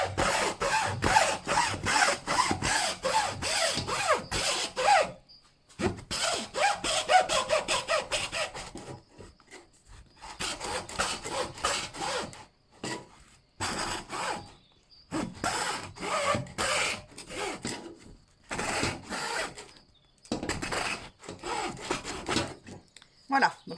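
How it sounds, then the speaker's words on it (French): A hand saw cuts through paper rolls in close, rapid back-and-forth strokes, coming in several bursts separated by brief pauses. "Donc, avec une scie. Vous voyez, ça se coupe."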